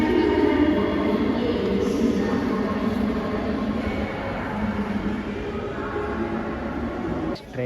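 A train at Tirupati railway station, a loud continuous rumble of rolling rail cars with a busy crowd talking over it throughout.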